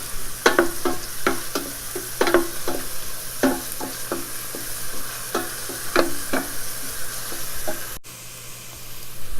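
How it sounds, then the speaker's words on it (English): Two tablespoons of ginger garlic paste sizzle in hot oil in a pan, with steady frying hiss and repeated sharp scraping stirs of a spatula, close and fairly loud, no talking. "I'm going to put this about 2 tablespoons of ginger garlic paste."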